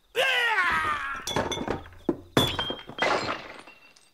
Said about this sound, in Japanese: ホールさんの体がテーブルに当たって上にあったガラス瓶が転げ落ちて